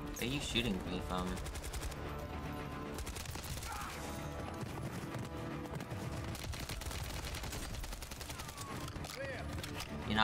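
Dense, continuous gunfire from Call of Duty: Modern Warfare 3 rattles throughout, rapid bursts layered with game music and effects, while players talk over the action.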